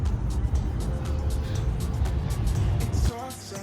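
A car driving, with a steady low engine and road rumble from inside the vehicle that drops suddenly near the end, while faint ticking and light noises sit above it.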